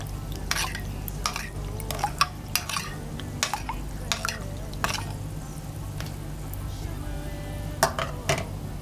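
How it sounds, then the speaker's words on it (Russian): A liquid mixture of egg, milk, sugar, salt and yeast is stirred into flour for dough, with repeated sharp clinks and scrapes of a utensil against a bowl in an irregular rhythm over a low hum. "Далее размешиваем и вводим жидкую массу в муку"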